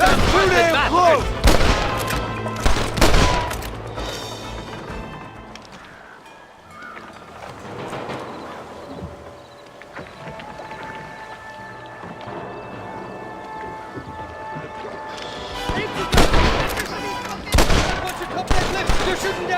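Enemy gunfire in Red Dead Redemption on PC, with loud bursts of shots clustered near the start and again near the end, separated by a quieter stretch of ambient game sound.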